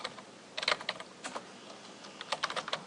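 Quiet keystrokes on a computer keyboard come in short bursts and clusters of clicks with pauses between them, typed close by with no voice over them.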